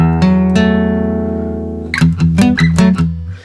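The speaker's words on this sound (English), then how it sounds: "And then you go to a minor third," Acoustic guitar notes ring together as a minor third, sustaining, then several quicker plucked downstrokes follow before fading out.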